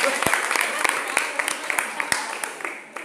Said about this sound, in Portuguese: Vamos aplaudir esse santo.